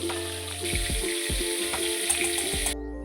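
Shrimp frying in hot oil over a high flame, a dense continuous sizzle and crackle heard close up, with a few soft pops and stirring knocks before cutting off abruptly near the end.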